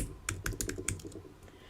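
Typing on a computer keyboard while searching online for leather earring findings, about a dozen quick close key clicks in an uneven burst, with no talk.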